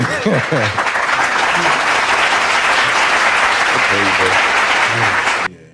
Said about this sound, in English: Y'all heard my hand clap?